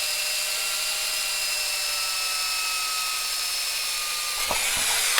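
A power drill with a blunt, worn-flat bit boring into a Squier 20th anniversary Stratocaster guitar body, a continuous high whining grind that holds steady for several seconds before ending in a few clunks, with no talk over it.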